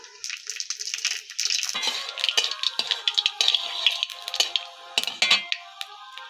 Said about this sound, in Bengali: পাঁচফোড়ন দিয়ে দিচ্ছি